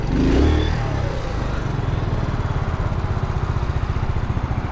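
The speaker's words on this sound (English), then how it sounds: "Yeah, so Honda Grom clone, the Boom Vader." Honda Grom clone motorcycle, the Boom Vader, idling and running close by with a steady, throbbing small-engine putter and a brief rev near the start, heard alone.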